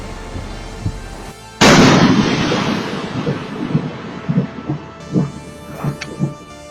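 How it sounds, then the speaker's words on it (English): A sudden loud crack of thunder bursts in, then rolls and rumbles on for several seconds amid steady rain, with deep echoing booms fading out. "a blinding flash lit up the sky, followed by a thunderous boom"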